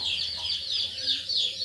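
Chickens being fed on a farm cluck and chirp in a busy, continuous chorus, fairly close, with a low background hum and no clear talking.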